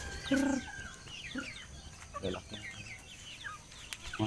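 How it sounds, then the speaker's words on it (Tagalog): Chickens cluck and call in short, scattered bursts, fairly close, with farmyard background noise and no one talking. "oh, dami na yung manok dito no"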